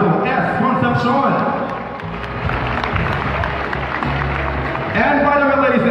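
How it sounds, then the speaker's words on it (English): Audience applause at the Miss Tanjay 2019 pageant coronation night, a steady wash of clapping from a large crowd with a voice talking over it at the start and end. "let us give a warm round of applause to the Honorable Reynaldo S. Concepcion"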